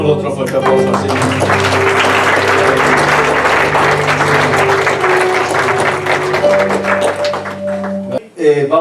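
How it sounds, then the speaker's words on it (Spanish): A church congregation claps loudly and continuously in praise during a worship service, dense applause near and sustained with musical tones underneath, then fading abruptly at the end. "Démosle otro fuerte aplauso al Señor"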